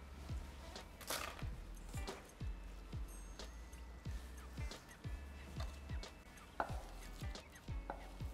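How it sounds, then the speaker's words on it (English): A knife chops a bunch of chives on a cutting board in a kitchen, giving quick, soft, evenly paced taps close by and fairly quiet, with a few louder knocks mixed in. "I'll start chopping some herbs"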